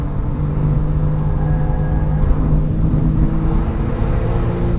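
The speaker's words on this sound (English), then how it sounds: "Let's try one lap where I commit to full throttle every straightaway, starting with this one." Porsche 997 Turbo with COBB Stage 2 tuning at full throttle on a race track, a steady, loud, dense engine roar and whir holding even for about five seconds with no voices.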